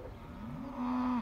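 A single cow moos at a feedlot as breakfast approaches, a rising, drawn-out low call about a second long, close and clear with faint background noise.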